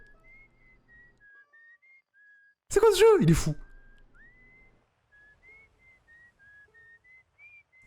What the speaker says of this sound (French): Il y a quelqu'un qui siffle sur la lune!